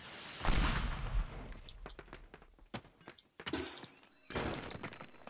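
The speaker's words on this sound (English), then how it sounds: "Rocket booster." Bursts of heavy thrust and clattering impacts from a rocket booster in the voxel destruction game Teardown, a loud roar at the start followed by scattered knocks and two further loud surges.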